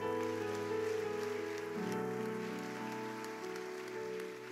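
A church congregation claps in a dense, continuous patter of applause over sustained keyboard chords, steady and moderately loud for the whole stretch.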